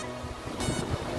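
Ocean waves washing ashore at Sitges beach near Barcelona, Spain, a steady broad rush of surf with a swell partway through, fairly loud and close, with wind buffeting the microphone.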